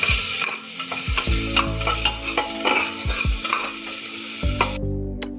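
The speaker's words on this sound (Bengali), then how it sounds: "ভালো করে নাড়াচাড়া করে নিচ্ছি যাতে তেলের মধ্যে রসুনটা, পেঁয়াজটা ভালো করে ভেজে নিতে পারি" Garlic and onion frying in oil for chicken soup, stirred repeatedly: crackling sizzle punctuated by metallic clanks and thuds of the spoon against the pan, close and fairly loud.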